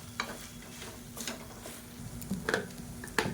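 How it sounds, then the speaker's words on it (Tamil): Cooked basmati rice being stirred into soya chunks thokku in a pan, with soft scraping and scattered clinks of a spoon against metal over a faint steady hum, no talking. "இப்போ அந்த சாதத்தை போட்டு நல்லா மிக்ஸ் பண்ணிவிட்டுக்கலாம்"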